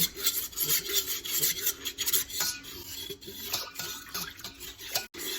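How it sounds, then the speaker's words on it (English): Organic molasses being stirred in a bowl for a pumpernickel-rye sourdough loaf, a continuous close scraping and rubbing of utensil against the bowl in uneven strokes, no talking. "So now I'm going to stir this up"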